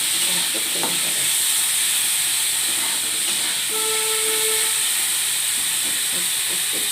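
Chickpeas frying in hot oil in a wok for a Bengali tel-kadai snack, giving a steady close sizzle and hiss throughout with faint stirring clatter.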